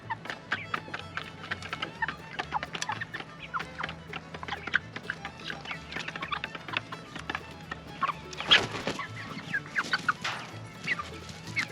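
Leghorn hens cluck steadily outdoors in a busy flock, with soft scratching and rustling patter mixed in and a louder burst of activity near the end.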